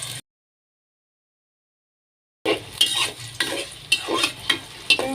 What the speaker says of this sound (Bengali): এই যে পেঁয়াজ দিয়ে দিলাম এখন